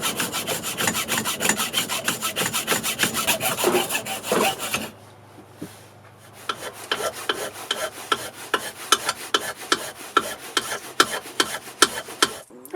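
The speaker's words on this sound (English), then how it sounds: "after about 10 minutes of filing and a wee bit of sanding, that's pretty smooth" A metal file rasps back and forth against a Suzuki GS500 fork lower in a shed, with loud, regular strokes, a brief pause, then a renewed run of sharp, evenly spaced strokes.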